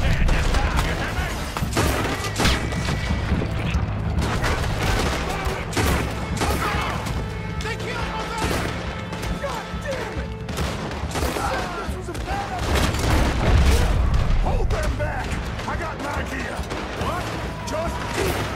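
Heavy gunfire in Red Dead Redemption 2 during a chaotic shootout, dense overlapping volleys of shots crackling continuously for a long stretch, loud and close, with shouting voices mixed in.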